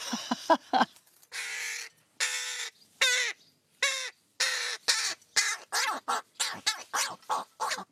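Crows being fed by a wildlife rescuer caw loudly and close by in a rapid series of harsh, rasping calls, some overlapping, with a few short squawks between them.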